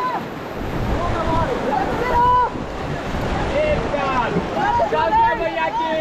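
Churning whitewater rapids roar steadily around a raft on the Ganges at Rishikesh, with wind buffeting the microphone and rafters shouting and talking over the rushing water throughout.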